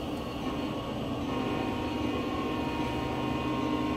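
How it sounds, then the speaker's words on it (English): A Union Pacific train of covered hopper cars rolls past on Sherman Hill in Train Sim World, a steady rumbling drone with a faint tonal hum and no talk. "This is a train made out of so-called covered hoppers."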